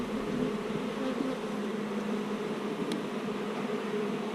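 Honey bees buzz steadily at a fed colony's hive where they are drawing fresh comb, a dense, continuous drone held close and even throughout, with no voices.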